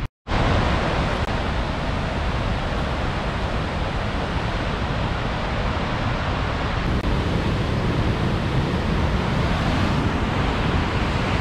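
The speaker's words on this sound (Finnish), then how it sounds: "Nyt kuulostaa siltä, että tuolla koski vapaana." Imatrankoski rapids in Imatra, Finland, running free with the dam gates open, give a loud, steady, broadband rushing roar of whitewater that holds unbroken throughout.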